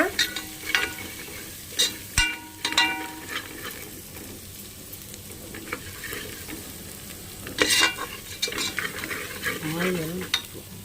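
Chana masala stirred in a pan with butter, with a steady sizzle under a string of loud scraping strokes and clinks of the spoon against the metal, close and uneven.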